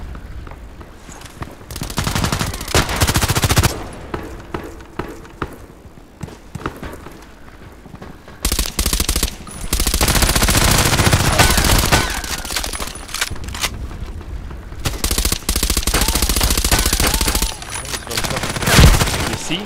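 Automatic fire from a KAC PDW rifle in the shooter game Contract Wars, loud sustained bursts separated by quieter gaps with footsteps and movement, near and aggressive.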